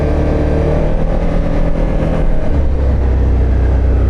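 A Can-Am Outlander 1000R MAX XTP side-by-side is ridden up a residential block, its engine droning steadily and loudly up close, then pitching up as it pulls away.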